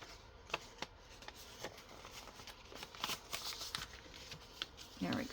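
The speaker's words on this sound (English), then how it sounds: "I need to fold this part in" Paper is folded and creased for a craft piece, giving soft scattered rustles and crinkles close by, quiet and irregular, with a louder crinkle near the end.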